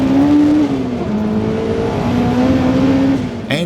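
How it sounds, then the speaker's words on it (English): A 450 horsepower turbocharged Honda S2000 revs loud and close, a droning engine note that holds, dips and climbs again over a few seconds. "Followed by a 450 horsepower Turbo S2000 that was absolutely insane"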